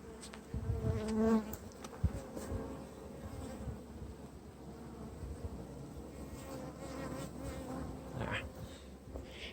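Honey bees buzz steadily around hives wrapped for winter, a dense continuous drone close by with a few individual bees flying nearer and passing, and no talking.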